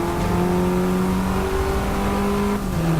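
A race car engine in Forza Motorsport 6 drives hard around a lap, a loud, close, steady droning whine that dips briefly as gears shift twice.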